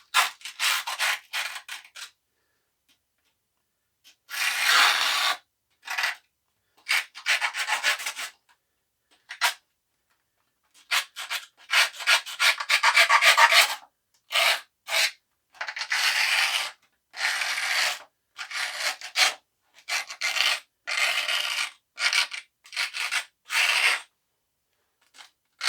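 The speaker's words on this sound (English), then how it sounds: "And then I'm going to use the back of the knife." The back of a knife scraping along the edge of skateboard grip tape, a series of rough, gritty rasping strokes in short bursts separated by brief pauses, close and fairly loud with no talking.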